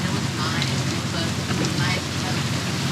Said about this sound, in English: while we're waiting out the rain.